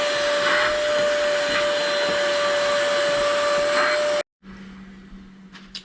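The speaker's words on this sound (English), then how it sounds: "So I'm gonna do a little vacuum in here." A vacuum cleaner runs inside a car's interior with a steady, loud whine and hiss for about four seconds, then cuts off abruptly. A quieter low hum remains afterward.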